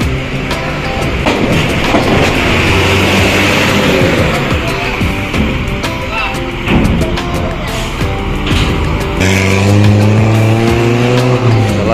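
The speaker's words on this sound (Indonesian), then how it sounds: "Selanjutnya diikuti unit bus pariwisata Armada Penantian rombongan pariwisata dari Lampung." Tour buses from Lampung rolling past in a convoy on a road in West Sumatra, a loud, steady engine roar with whining gear tones and passing swells that continue throughout, with no speech.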